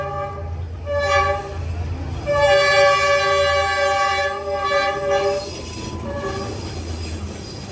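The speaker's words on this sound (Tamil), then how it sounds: "இந்த மாதிரி ஒரு ட்ரெயின் கிராஸ் ஆனதுமே எல்லோரும் ஏஞ்சி கிளம்பிடுவாங்க" A train passing on a railway track in Vietnam, loud and close, with a long harmonic horn blast sounding several times over the rumble of the wagons and squealing wheels.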